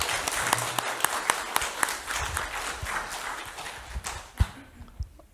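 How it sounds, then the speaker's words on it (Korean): Audience applause greets a professor at a humanities lecture, many hands clapping at moderate volume, thinning out toward the end with a few scattered louder claps. "박수 다시 한번 크게 부탁드립니다."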